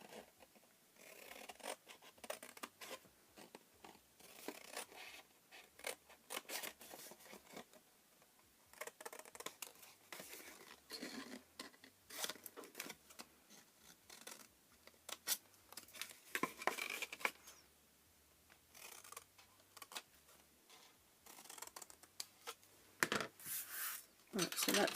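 Scissors snip and scrape through paper while pieces are trimmed for a card box, a quiet close series of short irregular cuts and rustles with brief gaps, alone and without voices.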